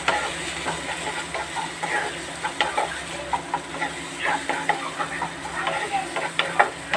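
Spices, including a little ground cumin, being stirred into a pan of rohu fish and potato curry: soft sizzling under repeated scraping and clinking spoon strokes at an uneven rhythm, close and fairly quiet.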